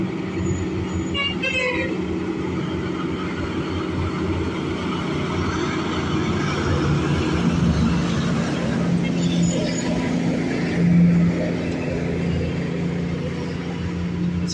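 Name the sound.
cars passing on mountain road, Alto de la Línea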